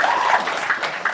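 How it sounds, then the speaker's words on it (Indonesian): A leadership and managerial skills workshop audience claps briefly on request, a short burst of scattered hand claps mixed with a little room noise. "kalau siap boleh tepuk tangan Bapak Ibu"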